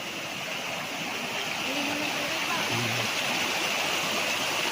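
Natural spring water on a farm lot in Lucban, Quezon, flowing in a steady, even rush like a small stream, close and continuous for the whole stretch with no break, and a faint murmur of talk underneath.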